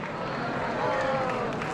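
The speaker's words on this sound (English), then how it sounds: "And, I don't know, you're cheering." A live audience cheers at the announcement of the Texas Chainsaw Massacre: The Legacy of Leatherface haunted house, a dense, steady roar of crowd noise filling the room.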